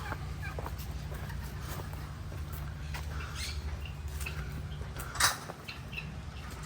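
Turkeys gobbling in the farm area of an exotic animal ranch, a few faint rattling calls over steady outdoor background noise, with one louder burst near the end.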